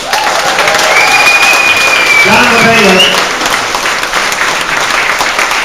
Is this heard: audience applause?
yes